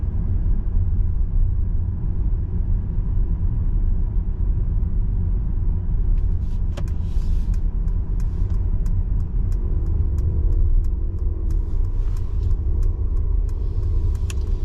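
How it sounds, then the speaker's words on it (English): A Mercedes EQS electric car coasting at the speed limit with light regenerative braking, giving a steady low road and tire rumble with soft rattling ticks in the cabin partway through. "keeping it at the speed limit, and the car is pretty much coasting. A little bit of regen, slowing us down just a little bit."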